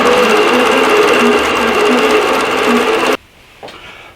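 A quilting machine stitching a quilt runs with a steady, loud mechanical hum and rapid needle rhythm for about three seconds, then stops abruptly, leaving near-silence and a brief small click.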